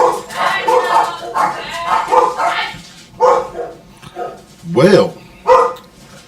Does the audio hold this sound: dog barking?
yes